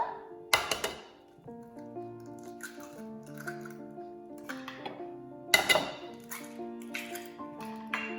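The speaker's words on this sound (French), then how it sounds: "Je casse mes 3 œufs dedans." Three eggs cracked into a bowl with minced herbs and mint for courgette fritters, giving two sharp cracking knocks with wet drips and clinks over a quiet kitchen backdrop.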